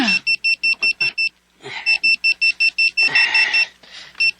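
An alarm clock beeps in rapid repeated bursts, pausing briefly then resuming, with faint background noise between.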